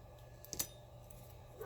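Paper pieces for a miniature dollhouse book are trimmed with scissors, a single soft snip standing out over a quiet background, close and faint, with no voices.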